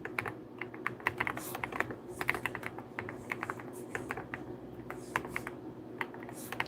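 Computer keyboard keys clatter in quick, uneven bursts of taps as names are typed, close and steady over a low background hum, with no talking.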